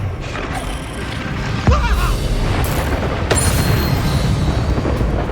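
Spell blasts in the Hogwarts Legacy video game, including fire spells, a loud, dense mix of booming impacts and crackling bursts, with a sharp hit partway through and continuous rumbling combat noise throughout.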